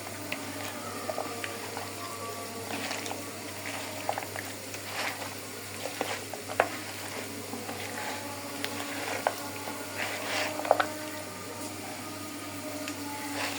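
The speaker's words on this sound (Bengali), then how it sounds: "এখন মাখাইয়া শুধু তেলে দিয়ে দেব।" Spiced chunks of meat fry in oil with a steady, soft bubbling and crackling sizzle that carries on evenly throughout, faint and uninterrupted, with scattered small pops.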